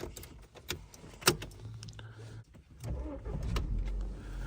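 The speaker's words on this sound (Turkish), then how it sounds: "marşımıza basalım ve gidelim arkadaşlar" A VW Scirocco 1.4 TSI 160 hp hatchback starts up after a few clicks and a soft hum inside the cabin, the engine catching and settling into a low, steady idle.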